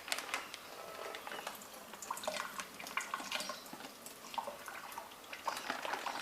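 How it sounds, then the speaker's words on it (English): Water runs over peanuts to dampen them, a faint, continuous splashing trickle with small irregular drips, heard close by and alone. "wetting these peanuts makes it easier for them to chop"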